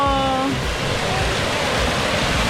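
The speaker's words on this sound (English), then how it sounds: "Waterfall." Steady, loud broadband rush of a waterfall in Hawaii, close and continuous, with a brief voice near the start.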